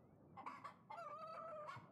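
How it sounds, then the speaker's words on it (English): A rooster crows in the video game Yes, Your Grace, a clear, close two-part call with a short opening note and a longer drawn-out second crow, heard alone. "the chicken just cacawed"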